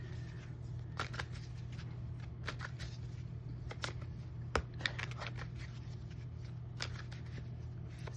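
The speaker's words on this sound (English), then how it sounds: "Go ahead and cut the deck." Tarot deck being shuffled and cut, soft scattered card flicks and taps, quiet and close over a low steady hum, with no talking.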